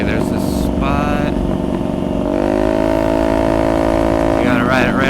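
A Honda Ruckus scooter engine drones loudly while riding, its pitch steady and then climbing, with wind rumble and someone talking over it.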